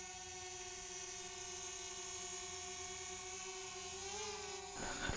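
A DJI Mavic Mini drone flying at night gives a steady, even high-pitched whine with a rich harmonic buzz, holding constant with a slight pitch wobble near the end.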